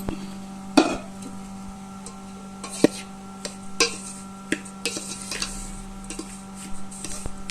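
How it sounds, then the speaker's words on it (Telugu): Pelam pindi laddu mixture being stirred in a bowl just after milk is poured in, heard as faint, scattered scraping and ticking taps under a steady low hum, with no talking. "లైట్ గా పోసి ఒకసారి అంతా మిక్స్ అయ్యే వరకు కలుపుకుందాం"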